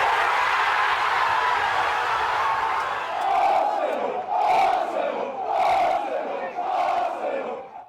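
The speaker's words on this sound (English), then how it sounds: "Crowds lit flares and led chants in the streets of North London as Arsenal clinched its 14th English title overall" Arsenal fans chant and cheer in the streets of North London, celebrating their club's Premier League title: a large crowd roars steadily, then rhythmic chant phrases swell and fall in repeated waves.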